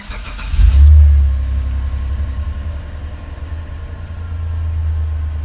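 A 2004 Mitsubishi Pajero GDI engine fires up with a sudden loud burst, then settles into a steady, close, low idle rumble.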